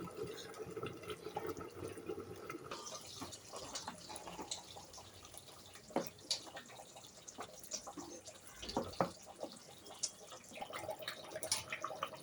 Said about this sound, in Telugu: చికెన్ కూడా చూడండి ఫ్రెండ్స్ ఎంత బాగా ఉడుకుతుందో.